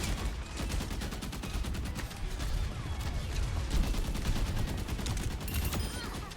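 Dense, sustained gunfire from an Overwatch match, rapid overlapping shots and bursts crackling continuously at steady loudness with busy game effects layered underneath.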